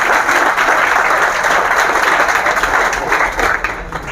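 Loud, sustained applause from a classroom audience at a coaching academy seminar welcoming a guest speaker, dense clapping throughout that eases slightly near the end.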